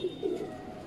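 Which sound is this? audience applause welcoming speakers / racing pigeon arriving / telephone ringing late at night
racing pigeon arriving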